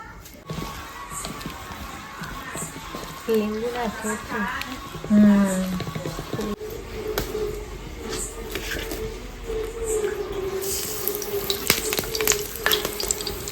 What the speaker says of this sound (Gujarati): ચાલો ભાઈ ગોટા તળવાનું ચાલુ થઈ ગયું છે